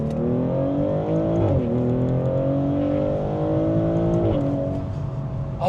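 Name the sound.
Maserati GranTurismo engine upshifts, 8-speed ZF transmission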